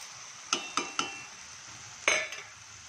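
Spoon clinks against a pan as red chilli powder, coriander powder, turmeric and salt are stirred in: several sharp metallic taps and scrapes over a faint steady sizzle, close by, with no talking.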